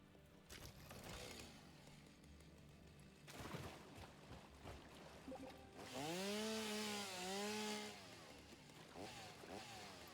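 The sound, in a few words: chainsaw in a video game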